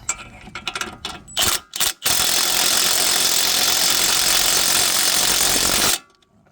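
Ratcheting wrench tightening a front strut nut on a 2011 Infiniti EX35 with 19 mm and 21 mm wrenches; a few quick metallic clicks open, then a loud, steady dense ratcheting burst runs about four seconds, close up, without talk.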